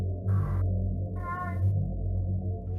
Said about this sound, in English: It was a loud cat